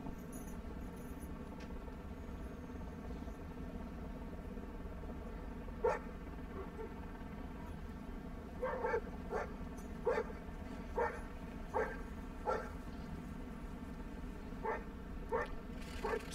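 A search and rescue dog barks in collapsed rubble at a military engineering demonstration, giving a single bark and then a run of repeated sharp barks, fairly distant over a steady loud background hum.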